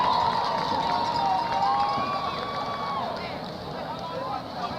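A stadium crowd cheers for the North Forney Sapphire Strutters dance team and varsity cheer at a high school football game, with broad sustained cheering and shouting under a loudspeaker announcer's voice.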